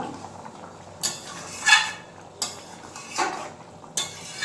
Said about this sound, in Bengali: এবার জল দেওয়ার পর একটু ভালোভাবে নাড়াচাড়া দিয়ে নেবো।